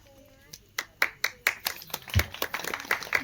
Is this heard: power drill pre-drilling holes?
no